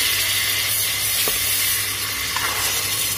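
Carrots hit hot oil with spices and sizzle steadily, a dense, even crackle that stays close and loud throughout with one faint clink partway through, no voices.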